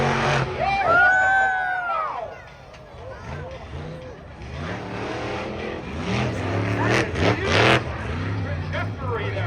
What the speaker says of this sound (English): That driver really got on the throttle, and that truck walked the road